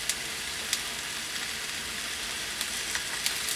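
Bread frying in a heated pan for a meat sandwich, a steady close sizzle with a few sharper crackles and pops, with no talking.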